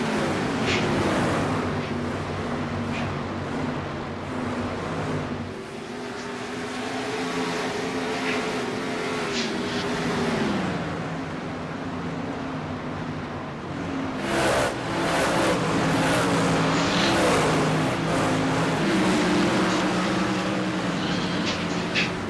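Sprint cars race at Indianapolis Raceway Park in iRacing, their engines droning in steady tones that shift up and down in pitch as the cars pass and run on, a continuous moderate roar with no voices over it.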